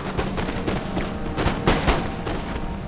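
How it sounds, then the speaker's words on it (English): Musket infantry volleys crackle in a Napoleon: Total War battle, a rapid, irregular series of sharp gunshots and fusillades with booming undertones, dense and loud throughout, no voices. "Getting some good volleys off."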